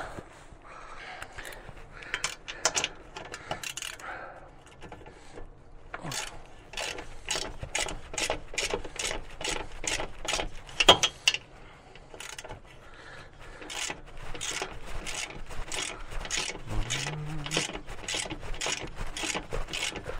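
A ratchet wrench on a 16 mm bolt clicks in quick repeated bursts while loosening an engine mount on a Mercedes C220 W203, with short pauses between strokes and faint metallic handling sounds close by.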